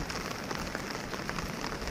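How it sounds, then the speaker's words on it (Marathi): Dense, steady monsoon downpour over a village in Bhiwandi taluka, India, hissing across the whole clip, with a constant patter and no voices. "सर्वच ठिकाणी असा पाऊस आहे, तुम्ही बघू शकता"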